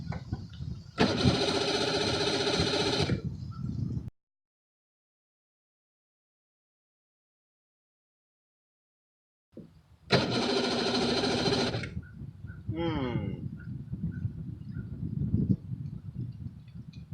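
A boat engine cranks twice as someone tries to start it, each burst of rapid whirring lasting a few seconds, separated by a long silence, followed by low rumbling and faint clatter outdoors.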